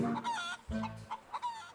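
A chicken clucks in a short burst of bright, throaty calls, close and fairly loud, with a low rough hum underneath partway through.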